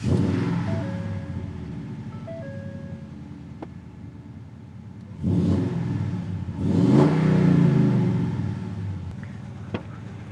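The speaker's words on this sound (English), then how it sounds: "it's always a little nerve-wracking starting the truck up" A truck engine starts and revs up in bursts, medium-loud and close, with steady idling between the rises and no talking.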